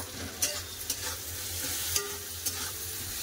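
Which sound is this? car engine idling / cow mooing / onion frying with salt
onion frying with salt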